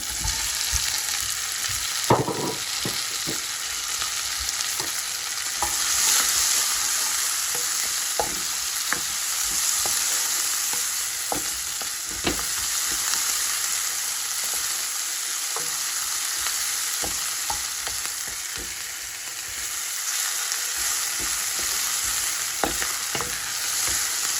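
Chopped onion fries in a pan for Sri Lankan-style nettle leaf cooking, giving a continuous loud sizzle broken by repeated spatula scrapes and taps as it is stirred.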